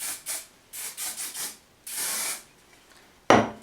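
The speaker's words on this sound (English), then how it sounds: "Lastly, we're going to put on some hairspray." Hairspray is sprayed onto a finished Audrey Hepburn Sabrina-style hairstyle in a series of short, close aerosol bursts, several quick hissing puffs followed by one longer spray and a final sharp burst.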